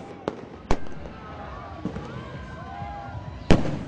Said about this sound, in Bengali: পুরান ঢাকার আকাশ রঙিন করে জ্বলে ওঠে হাজারো আতশবাজি